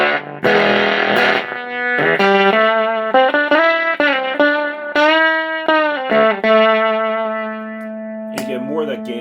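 Indigo Labs 510-11 Valpro guitar amp at position 4 on its selector giving a gated, distorted electric guitar tone: thick sustained chords and single notes that stop abruptly between phrases, loud and close.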